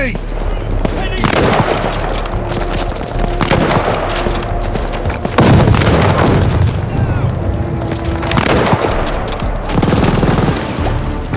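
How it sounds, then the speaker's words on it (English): Half-track machine gun fire in Call of Duty: Vanguard, loud bursts of rapid gunfire and heavy booms in repeated waves, with shouted voices mixed into the battle. "Suppress the half-track MG! Gun her down!"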